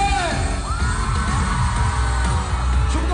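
At a commercial concert in Macau, a crowd screams and whoops beneath loud, continuous live music, with the cheering blended into the dense, steady wall of sound.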